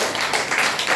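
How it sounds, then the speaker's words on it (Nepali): Applause from an audience at a DXN business talk, a brief loud burst of dense clapping from many hands. "यसको लागि एकपल्ट जोरदार ताली।"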